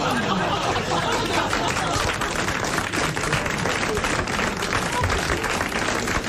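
A studio audience on a 1987 French television talk show claps steadily and fairly loudly, a dense patter of applause mixed with chatter and some laughter throughout.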